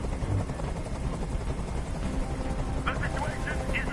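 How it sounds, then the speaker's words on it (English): Helicopter noise from the video game Detroit: Become Human, a dense continuous rotor rumble hovering overhead with a voice speaking over it throughout. "Tell that helicopter to get out of here."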